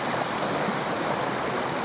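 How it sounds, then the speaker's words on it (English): Waterfall on a river rushing steadily as a broad, continuous roar of water, loud and unbroken, with no voices over it. "I can hear the falls over there."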